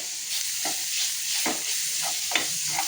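Steady sizzling of ginger garlic paste frying in a pan, with soft scraping stirs every half second or so, close and continuous.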